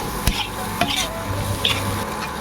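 Chili powder stirred into capsicum frying in a pan for macaroni pasta, with a steady sizzle under several sharp scrapes and knocks of the spoon against the pan, close and moderately loud.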